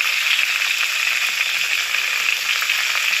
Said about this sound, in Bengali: এর মধ্যে কুচিয়ে রাখা টমেটোগুলো দিয়ে দেবো, দিয়ে একটু ভালো করে সর্ষের তেলে ভালো করে একটু নেড়ে সেদ্ধ করে নেব।